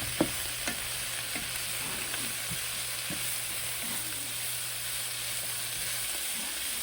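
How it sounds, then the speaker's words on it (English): Large pieces of bok choy sizzle and crackle in a hot pan while being stir-fried for tandoori chicken chow mein, a steady frying hiss broken by occasional scrapes and stirring clinks; no speech. "I put some large pieces of the bok choy in there."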